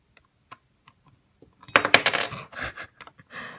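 Metal wrench handled while fitting a blade on a Fein oscillating multi-tool: a few faint, sparse clinks, then a louder burst of jangling metallic clatter and rattling, close by with no talk.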